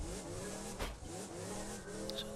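A car engine in the Borderlands 2 video game drones steadily and quietly throughout, with a brief surge partway through and no speech.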